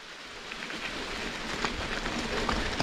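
Rain falls steadily on a forest trail in Pisgah National Forest, a dense, hissing patter that grows slightly heavier and louder as it goes, with no voices.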